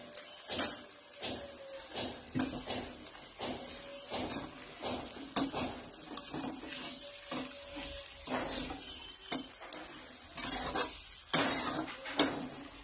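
Chicken kosha is stirred and sautéed in a pan with a spoonful of oil, giving repeated scraping and clinking strokes over a faint, continuous sizzle.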